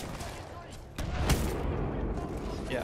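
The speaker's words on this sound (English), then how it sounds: "I know there's a lot of gunshots right now." Bursts of gunfire in the video game Titanfall 2 crackle and boom, with a louder cluster of shots around the midpoint, continuing steadily under a busy, noisy mix.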